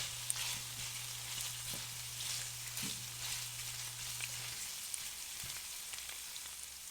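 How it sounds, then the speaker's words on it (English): Garlic sizzles gently in avocado oil and pork belly drippings for fried rice. The frying hiss is soft and steady, with light crackles and a brief low hum beneath. "I'm just going to let that cook within the avocado oil and the drippings from the pork belly."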